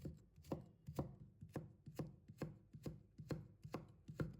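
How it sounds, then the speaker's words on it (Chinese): A knife chops a peeled carrot into thin strips on a cutting board, about ten steady, evenly spaced close knocks with crisp blade strikes and no talking. "先给它切1刀，然后再立起来，这样切的时候不易打滑，把它切成片，再把它切成细丝。"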